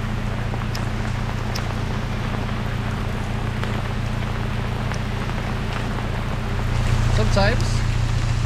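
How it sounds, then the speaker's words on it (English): Steady rain patters on a canal boat over a low engine drone, continuous and close, with a brief high squeak near the end. "A rainy holiday."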